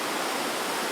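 Fast-flowing river water rushes near Chitkul, a Himalayan village by the Tibetan border, as a dense, steady broadband roar. It is close and constant with no pauses and no voices.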